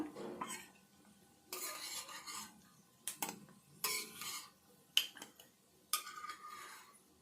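Cashews and almonds fry in ghee in a pan while being stirred, with intermittent scraping and clinking bursts of the spoon against the metal over a quiet background.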